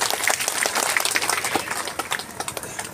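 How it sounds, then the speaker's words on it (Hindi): An audience at a political rally in Berasia, Madhya Pradesh, applauds to welcome the local MLA with dense crowd clapping that stays loud and fades slightly toward the end. "ताली बजा करके स्वागत आप लोग करें।"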